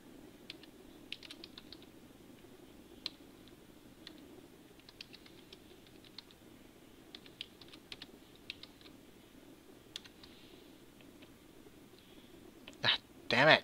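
Someone types on a computer keyboard while playing Star Wars: The Old Republic, giving scattered, faint key clicks over a low background hum, followed by a louder burst of noise at the very end.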